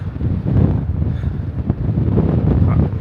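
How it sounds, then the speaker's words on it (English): Cold wind blowing on a beach, a steady rushing buffet against the microphone that stays loud throughout with no talk. "Oh, I can see the wind."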